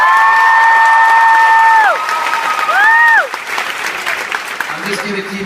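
An audience at a panel at the USC Festival of Books claps in a broad, loud burst mixed with cheers and shouts, which thins to scattered clapping near the end.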